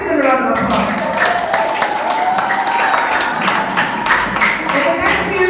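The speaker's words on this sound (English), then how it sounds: "Let's give them a round of applause." Applause rings out from the audience at a school debate competition, a steady dense wash of many hands clapping that carries on loudly from start to finish.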